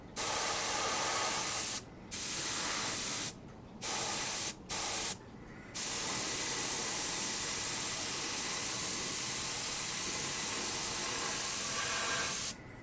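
Airbrush spraying paint on a model ship, a close, loud hiss that cuts off in several short pauses before settling into a long continuous spray.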